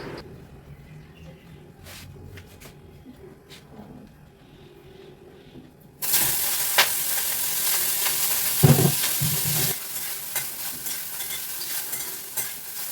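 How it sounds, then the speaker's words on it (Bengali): Small mourala fish drop into hot oil in a pan. After a quieter stretch of kitchen sounds comes a sudden, loud, continuous sizzle with sputters and pops. No one speaks. "এবার মৌরলা মাছটা ভেজে নেব"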